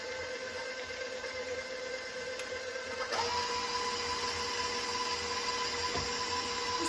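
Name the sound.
electric mixer mixing chocolate zucchini cake batter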